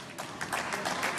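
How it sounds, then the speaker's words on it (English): Audience at the 2018 German Masters snooker match applauding as players Judd Trump and Joe Perry re-enter after the interval, a brief burst of moderate clapping that swells slightly. "that applause is for the re-entrance of Trump and Perry after the interval"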